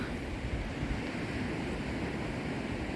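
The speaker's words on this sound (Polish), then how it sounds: "Tak wygląda plaża w Hołpach." Beach surf at Hołpy on the Hel Peninsula, Poland, a steady broadband wash of waves with wind noise, continuous and fairly close, with no voices.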